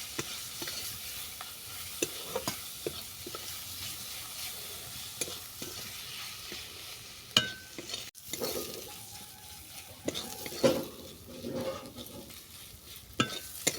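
Grated boiled potato with spices being sautéed in a pan for a pumpkin-flower vegetarian chop: steady soft sizzling with repeated scraping stirs of a spatula, occasional sharper knocks against the pan, no voices.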